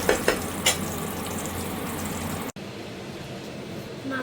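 Sausage pieces sizzle steadily in a hot pan, a continuous frying hiss with a few brief clatters near the start before the sound drops quieter partway through.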